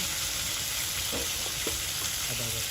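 Potatoes sautéing in a pan for a village-style fish curry, with a steady oily sizzle and occasional stirring scrapes close by, no talking.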